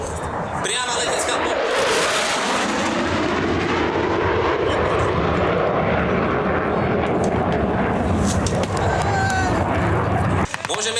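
Military aircraft fly over during an air support demonstration at a tank show in Trenčín, Slovakia, making a loud, sustained roar that swells and fills the scene, while an announcer talks over it.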